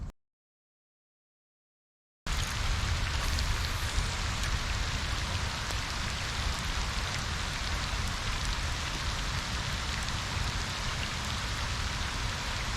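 Steady rain falls on the Des Plaines River during a July fishing trip, a dense, continuous hiss of drops on water and surfaces that starts abruptly after about two seconds of silence and holds constant throughout, with no voices.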